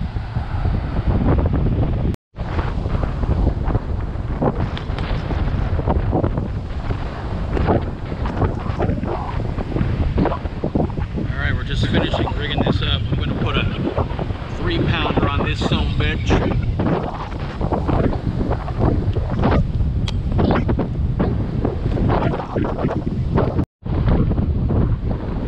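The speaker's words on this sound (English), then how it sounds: "It's windy, real windy out here." Heavy wind buffets the microphone outdoors at Topsail Preserve for the whole stretch, a loud continuous roar with gusty rumbles and a few brief cutouts.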